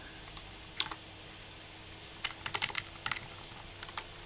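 Sporadic bursts of typing on a computer keyboard, quiet and close, with irregular clusters of keystrokes separated by pauses and no speech.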